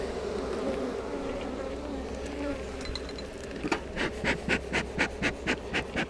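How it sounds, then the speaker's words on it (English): Honeybees swarm and buzz around an open hive during an inspection, their drone steady and close, while a voice joins in later with rhythmic bursts. "Got a bunch of guard bees that were upset I was shaking the queen around"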